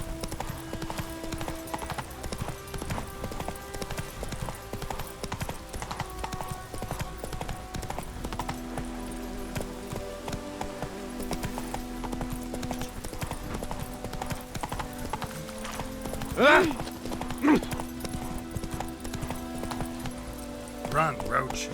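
Horse hooves clip-clop steadily through The Witcher 3 as the mount is ridden, a continuous mid-distance rhythm beneath game music, ambient sound and voices talking.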